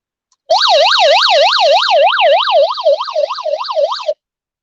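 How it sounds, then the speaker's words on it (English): An emergency flashlight's built-in siren gives a loud, rapid rising-and-falling electronic wail, sounded alone for about three and a half seconds and then cut off. "SOS, emergency light, and siren."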